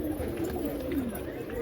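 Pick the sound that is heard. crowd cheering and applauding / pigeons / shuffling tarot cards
pigeons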